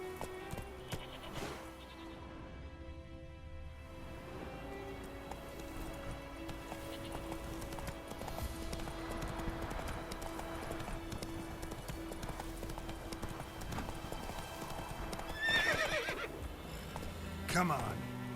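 Roach, the horse from The Witcher 3, clip-clops along with rhythmic hooves under a steady game ambience, breaking into a couple of short whinnies near the end while a voice speaks briefly.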